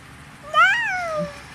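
A person imitating a cat with a single drawn-out meow, rising then falling in pitch, close and clear over quiet background.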